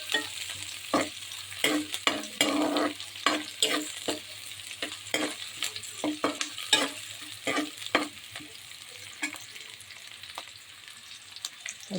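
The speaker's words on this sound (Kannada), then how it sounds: "ಬೆಳ್ಳುಳ್ಳಿ ಮತ್ತು ಈರುಳ್ಳಿಯನ್ನು ಚೆನ್ನಾಗಿ ಫ್ರೈ ಮಾಡ್ಕೊಳ್ಳಿ ತುಪ್ಪದಲ್ಲಿ." Garlic and onion fry in ghee with a bright, crackling sizzle, broken by frequent stirring scrapes and clatters against the pan over twelve seconds, close and loud, with no voices.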